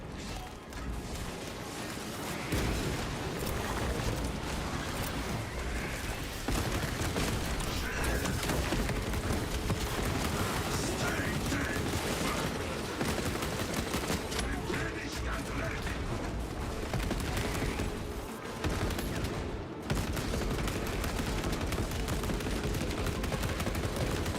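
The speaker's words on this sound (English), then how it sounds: "Our enemies will feel the blast cannons right." Heavy blast cannons fire in a sci-fi siege video game, a dense and loud barrage of booming shots and crashes that runs continuously with almost no pause.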